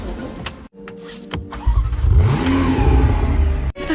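A 3.9 litre twin-turbo V8 rated at 700 horsepower cranks over with a few clicks and short bursts, then catches and revs loudly up close, its deep roar climbing and holding before a brief dip.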